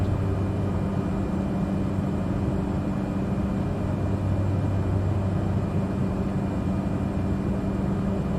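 A Cessna 208 Grand Caravan climbs in a flight simulator, its single turboprop engine giving a steady, loud, unbroken drone with a low hum and airy wash, with no talk over it.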